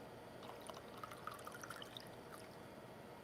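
A drink is poured during a live-streamed show, giving a soft, steady trickle of liquid with faint splashes, quiet and close, with no talk over it.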